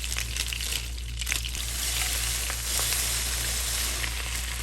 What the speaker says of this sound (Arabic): انا احب دائما احمس البسكوت مع الزبدة يعطيله نكهة الشيز كيك